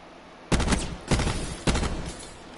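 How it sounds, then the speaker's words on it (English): Three sharp bursts of video game gunfire, each a loud rapid volley about half a second apart in rhythm, standing alone over a quiet background. "What are you shooting at?"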